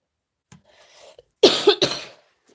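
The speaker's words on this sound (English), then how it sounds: "Sorry for all the coughing and stuff." A few harsh coughs from a person with a bad cold, close up after a brief rustle, two strong bursts in quick succession.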